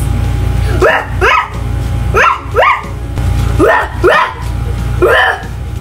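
A dog barks in several quick pairs of sharp yips, repeating roughly every second over a steady low hum.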